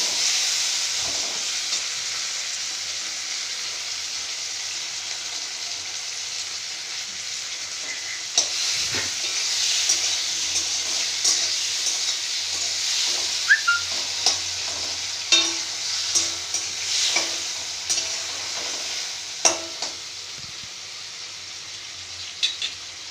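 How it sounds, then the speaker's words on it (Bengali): Tomatoes fry with a steady sizzle in a pan for a vegetarian papad dalna, joined midway by repeated scraping and knocking of a spoon stirring them, close and without talk. "টমেটোটা একটু নাড়াচাড়া করে দিয়ে দেবো"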